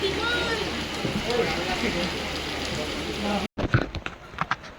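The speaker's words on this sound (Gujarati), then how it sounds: "વાવાઝોડા સાથે વરસાદ પણ ચાલુ થઈ ગયો છે. જુઓ તમે, ફૂલ વરસાદ ચાલુ થઈ ગયો છે." Heavy rain driven by a storm pours down steadily during an outdoor engagement function, a dense, loud roar of drops on surfaces. It cuts off abruptly, and scattered clatter and voices follow.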